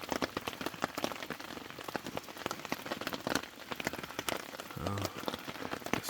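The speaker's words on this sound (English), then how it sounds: "I think the rain seems to be letting up, and it looks like the sun's coming out." Rain pattering steadily on a tent during a storm at a lakeside campsite in Algonquin Park, dense close drops with a few louder individual taps throughout.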